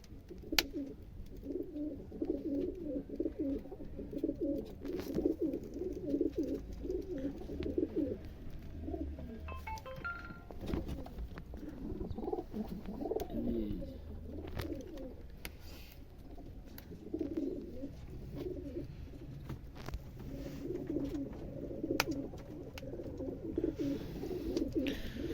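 Pigeons coo repeatedly in low, throaty phrases that swell and fade in a steady rhythm, close by and continuous, with no talking over them.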